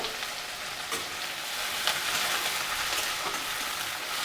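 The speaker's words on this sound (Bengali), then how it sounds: "তেল গরম হয়ে গেছে, এবার দিয়ে দেবো এক মুঠো পেঁয়াজ, একটা বড় কাঁচা লঙ্কা" Onions and a large green chilli fry in hot oil in a pan, giving a steady, close crackling sizzle with a few sharper pops, continuous throughout with no talking.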